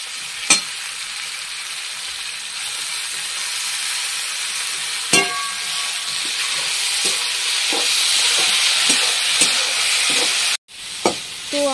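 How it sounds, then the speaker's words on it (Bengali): Bottle gourd leaves sizzle with fried onion in a pan, a steady crackling hiss broken by sharp spatula clinks and scraping stirs, with a brief cutout near the end. "এবার আমি থেতো করা লাউ শাকগুলো ছেড়ে দেব।"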